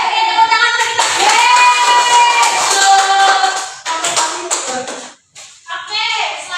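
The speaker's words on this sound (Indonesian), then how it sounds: "Oke, tepuk tangan untuk kita." Children in a grade five classroom clap their hands together in a loud, brief burst, with young voices mixed in over the clapping before it fades and picks up again.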